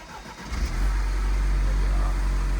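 A 2020 Mini Cooper S engine cranks briefly and catches, settling into a steady, loud idle rumble.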